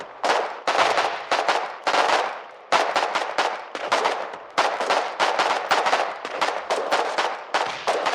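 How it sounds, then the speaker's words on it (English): Grenades going off in a war video game: a rapid run of loud, sharp blasts, some overlapping, each trailing into a short rumble, repeating steadily for several seconds with no talking. "That's about 10 grenades that just went off."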